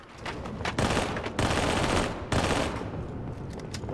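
Halo 3 custom-game gunfire in loud, long automatic bursts separated by brief pauses, with sharper single shots in the gaps.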